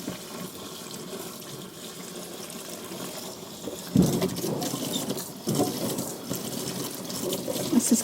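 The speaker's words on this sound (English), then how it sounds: "So just leave that sitting with cold water running into it." Cold water runs from a tap into a wax casting mould with a steady, close splashing trickle that grows louder and more gurgling partway through, with no talking.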